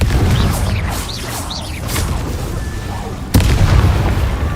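Fiery Confringo spell blasts in the game Hogwarts Legacy, a continuous roaring wash of booming explosions with whooshing bursts and a sharp sudden impact near the end, loud and dense throughout.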